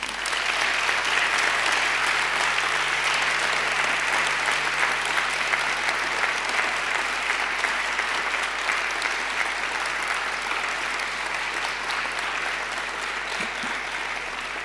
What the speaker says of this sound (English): now I want you to give them a mighty round of applause.